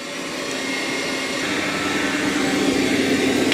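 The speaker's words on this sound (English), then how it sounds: "it is going to vacuum that carpet also" A Dreame robot vacuum vacuuming carpet makes a steady, loud motor whir that hums continuously and rises slightly in pitch partway through, with no voices.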